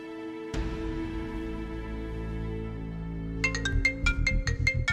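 A phone rings with an incoming call, its repeated bright electronic tones entering clearly over a steady background hum, loud and close.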